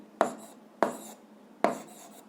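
Three separate chalk or marker strokes scratch across a board as a physics equation is written, each a short close scrape roughly every 0.7 seconds, with no voice over them.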